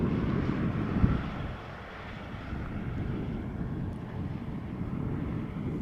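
Atlas Air cargo airplane arriving from Miami lands at Schiphol, a steady broad engine and wind roar at moderate distance, no talk.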